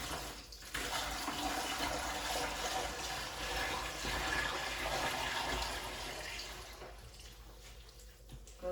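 Water gushes steadily into a container over ducks being prepared for marinating before smoking, a continuous close rushing pour that eases off near the end.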